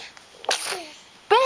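A small child sneezes once, sharp and close, amid faint soft household sounds, with a short voiced sound from the child just before.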